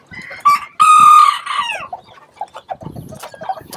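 A bantam rooster crows loudly and close, paired with a small blue hen, followed by a run of short clucks and scratchy fowl sounds nearby.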